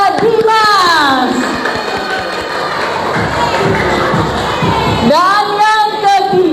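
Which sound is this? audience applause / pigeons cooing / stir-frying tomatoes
audience applause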